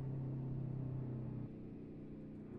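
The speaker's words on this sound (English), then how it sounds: "It's just the engines that come with this freeware truck, and they sound really damn good" A Diamond Reo Royale truck engine in American Truck Simulator drones with a low, steady rumble and hum, the tone dropping slightly partway through as the truck slows on the engine brake.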